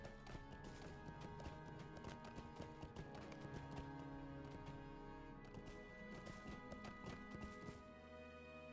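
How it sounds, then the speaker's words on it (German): Horse hooves clip-clop steadily while riding along a path in Lord of the Rings Online, a close, continuous rhythmic patter over layered game music, with a brief whinny possible. "Wir reiten einfach nochmal ein kleines Stückchen den Weg zurück."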